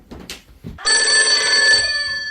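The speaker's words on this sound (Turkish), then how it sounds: "Kapı çaldı." A doorbell at a home's front door rings loud and sustained for about a second, a steady bright electronic tone that then fades, following a few soft indistinct sounds.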